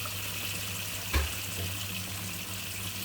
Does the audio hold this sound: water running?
yes